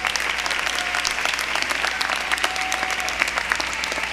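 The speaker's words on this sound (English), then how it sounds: "Give them a round of applause." A commencement ceremony crowd applauds loudly and continuously, a dense, even wash of clapping with no break from start to finish.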